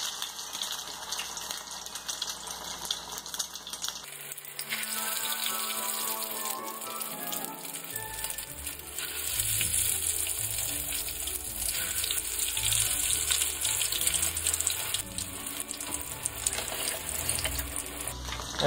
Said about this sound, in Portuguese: Depois de esquentar bem a gordura, nós vamos colocar as nossas rabanadas para fritar.